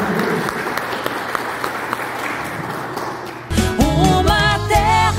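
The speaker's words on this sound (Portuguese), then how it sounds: "salva de palmas." Dense applause at a gaúcho dance course event fills the first three and a half seconds, then gives way abruptly to loud music.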